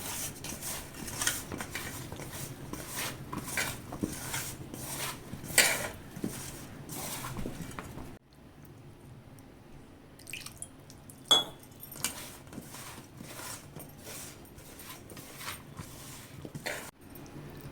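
Hands mix cauliflower pakoda batter with masala and a little added water in a bowl, giving close, rapid wet patting and squelching that runs steadily, then thins into sparser dabs and clinks.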